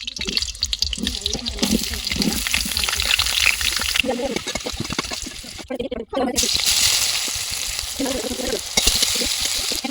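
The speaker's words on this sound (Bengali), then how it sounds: "কড়া গরম হয়ে গেছে, তেল দিয়ে আলুগুলো দিয়ে দেব।" Potatoes drop into hot oil in a heated wok and crackle loudly, and the sizzle surges midway through while a person talks over it on and off.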